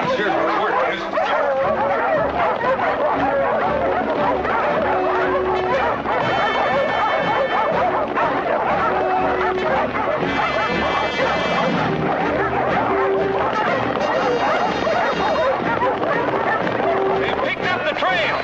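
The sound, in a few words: dogs barking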